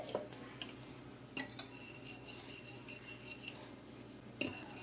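Cake batter with yogurt being mixed in a bowl for an eggless rose milk cake: soft, quiet stirring with scattered clinks of a utensil against the bowl, a few sharper taps, no speech.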